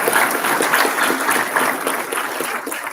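Audience applause at an Air Force Academy cadet squadron job-drop ceremony, loud, continuous clapping from a crowd that stays steady from start to finish with no voices on top.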